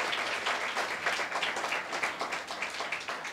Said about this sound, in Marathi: अशा जिवंत देवासाठी एकदा टाळ्या वाजवूयात